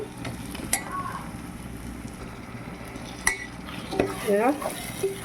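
Tomatoes with coriander powder and chili powder cooking in a pan, a soft steady sizzle broken by a few sharp utensil clinks and scrapes against the pan, with no talk.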